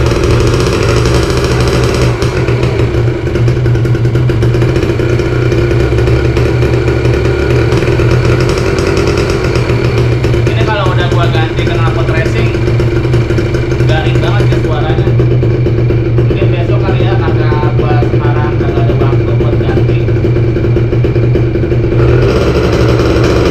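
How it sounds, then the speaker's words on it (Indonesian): A new motorcycle with its stock, unmodified exhaust idles and revs steadily and loudly. The engine runs continuously throughout, and people talk over it in the middle and later part. "Ini masih standar guys knalpotnya."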